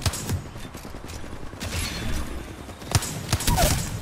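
Gunfire in the Apex Legends video game crackles in scattered bursts, with sharp shots and a heavier thump near the end over a noisy, busy game mix.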